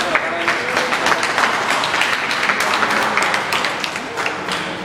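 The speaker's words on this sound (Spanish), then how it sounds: "Un fuerte aplauso para el general." Loud, vigorous applause from an audience for a general, dense overlapping claps with sharp individual hand strikes standing out throughout.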